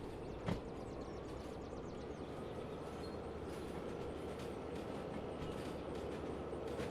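In a train driving video game, a locomotive hauling wagons rolls along with a steady low rumble and faint rhythmic clicking of wheels over rail joints, fairly quiet, with a single sharp knock near the start.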